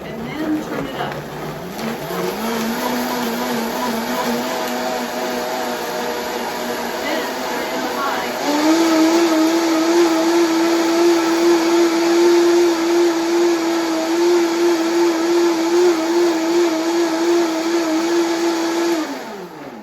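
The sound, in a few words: Vitamix blender blending green juice at variable speed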